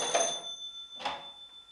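An old original telephone in a museum rings in two short electric bursts about a second apart, the first longer and louder, with a faint steady tone hanging between them.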